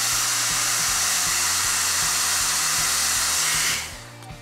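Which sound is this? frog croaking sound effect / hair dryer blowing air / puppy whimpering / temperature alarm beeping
hair dryer blowing air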